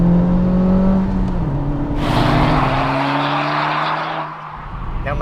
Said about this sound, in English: It's got a 2-litre turbocharged VTEC engine with 306 brake horsepower and 295 foot-pounds of torque.